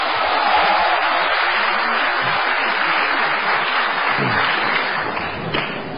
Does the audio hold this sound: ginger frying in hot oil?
no